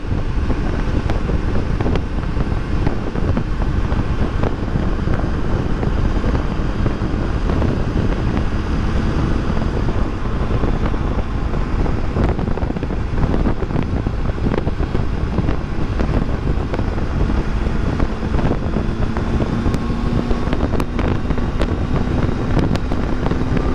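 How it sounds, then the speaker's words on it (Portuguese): Steady roaring wind buffeting the microphone while riding a 2019/2020 Triumph Tiger 800 XCA motorcycle, loud broadband rush throughout with faint engine hum underneath and no letup. "Vocês devem estar sentindo aí o barulho do vento."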